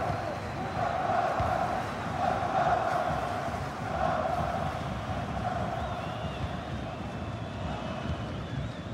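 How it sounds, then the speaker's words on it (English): Stadium crowd in an EA FC 24 match between Germany and the Netherlands, a broad sustained roar swelling and easing over several seconds as it urges a player to shoot, with no talking over it. "The crowd urging him to shoot."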